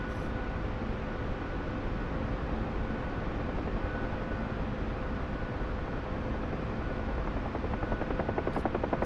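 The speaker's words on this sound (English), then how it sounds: "somebody's made a modded helicopter, the AH-1, I believe it's a Golf, AH-1G Cobra" A modded AH-1G Cobra helicopter flies in a video game, its dense rotor and engine roar loud and steady throughout with a faint rhythmic rotor chop surfacing near the end.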